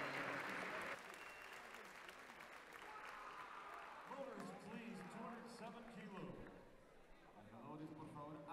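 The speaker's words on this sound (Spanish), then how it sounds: "El público aplaude" Spectators applaud at a weightlifting final in Santiago 2023 after a Mexican lifter fails a lift. Sustained, even clapping fills the arena, with a commentator speaking over the applause throughout.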